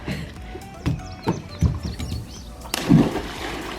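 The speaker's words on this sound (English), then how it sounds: "I think Drake got the smaller splash." Several short splashes from people jumping into water during a splash contest, each a brief burst of churned water arriving in quick succession, fairly close and loud.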